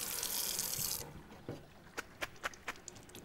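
Cold water running from a kitchen tap into a cooking pot in a sink, a steady hissing stream for about a second, then a few separate splashes and drips.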